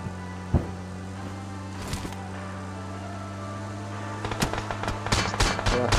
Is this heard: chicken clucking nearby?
no